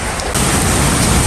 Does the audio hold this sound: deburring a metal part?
no